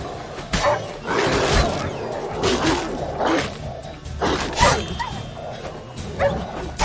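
A dog barks in The Witcher 3: Wild Hunt, a string of sharp, loud barks and yips spaced unevenly over several seconds, with game sounds mixed in.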